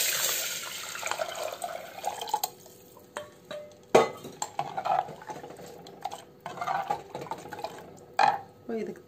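Ground horse-gram rasam liquid is poured into a cooking pot, a splashy watery pour broken by sharp clinks and knocks of utensils, with someone talking over parts of it.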